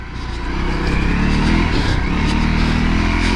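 A motorcycle engine runs steadily while the bike sits stuck in sand, its loud, close, rough drone holding for the whole stretch with slight rises in intensity.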